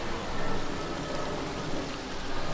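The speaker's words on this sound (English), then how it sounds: "It's been raining pretty hard all day. It's still raining." Steady hard rain falls in Hong Kong, an even dense wash of drops at moderate level throughout with no voices.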